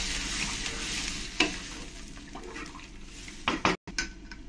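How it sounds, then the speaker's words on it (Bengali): Curry of ridge gourd and lentil dumplings in a pan with water just added, stirred with a utensil: a bubbling sizzle with sharp scrapes and clinks against the pan, one brief silent gap, close and clear, no voices. "এবার এর মধ্যে দিয়ে দেবো অনেক জল, জলটা দিয়ে ভালো করে আমি মিশিয়ে নেব"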